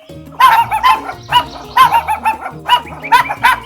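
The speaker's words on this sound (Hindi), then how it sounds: "यहाँ पे कुत्ते की पिल्ले की भौंकने की आवाज आ रही है।" A cartoon puppy barks in quick clusters of high, yappy barks, repeated several times, loud and close with no talking.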